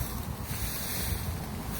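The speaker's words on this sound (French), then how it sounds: "Et là, on a également le bruit du vent." Steady, loud wind buffeting the microphone on a nature walk, with a low rumbling roar, continuous throughout with no voices.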